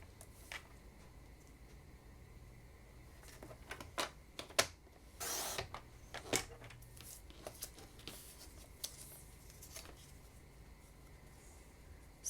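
Paper for a layered card is cut on a trimmer, a quiet run of ticks, slides and a longer swishing blade stroke midway, with sparse clicks before and after, close and faint, no talking.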